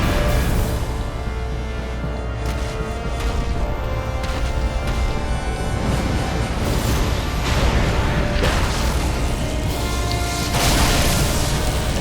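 Fire blast attack from the Nameless King boss in Dark Souls 3: a continuous loud roaring rumble of flames and booming bursts, dense and sustained throughout.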